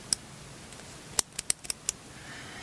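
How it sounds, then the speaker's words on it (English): A few quick, sharp plastic clicks in an uneven cluster, close and fairly faint, from a crochet row counter being turned notch by notch. "you just sort of push in slightly to turn the row round"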